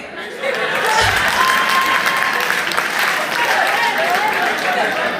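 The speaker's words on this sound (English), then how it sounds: "Clap for me." Loud, sustained applause from a live audience fills the whole stretch, dense clapping with some crowd murmur and a chuckle mixed in.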